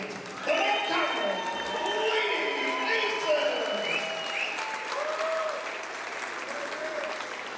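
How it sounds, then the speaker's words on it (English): A crowd claps and cheers for girls' high school basketball regional champions in a gym, with loud applause carrying on under an announcer's amplified voice before slowly easing off. "Let's give one more big round of applause for our 2025 regional champions"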